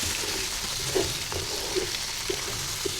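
Chicken and garlic sizzling in mustard oil in a pan, a steady close frying hiss with occasional stirring scrapes and pops.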